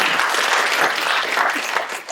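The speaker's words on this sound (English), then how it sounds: "Okay, well, applause." An audience applauds after an investor pitch, a dense, steady wash of clapping at moderate loudness with no voices over it, tapering off slightly at the end.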